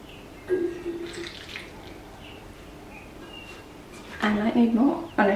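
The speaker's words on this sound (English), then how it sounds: "So I'm going to give it a good water, pour it through the top and let it come out the base" Water is poured into a potted Philodendron Brasil freshly repotted in fresh potting mix, with a soft trickle, splashes and gurgles as it soaks through, louder wet splashing near the end.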